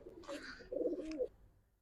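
A Giribaz pigeon gives two close, soft throaty coos in quick succession, then the sound fades out.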